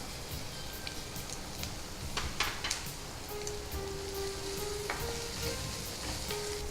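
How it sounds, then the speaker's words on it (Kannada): Capsicum and potatoes frying in a pan give a steady close sizzle with occasional stirring scrapes, continuous throughout with no talk. "ಇವೆಲ್ಲ ಏನು ತುಂಬ ಫ್ರೈ ಆಗೋದೇನು ಬೇಡ. ಓಕೆ. ನಾವು ಅದಕ್ಕೆ ಕ್ಯಾಪ್ಸಿಕಮ್ ಹಾಕ್ತಾ ಇದ್ದೀವಿ."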